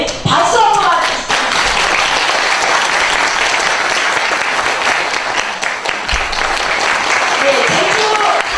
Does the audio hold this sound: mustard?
no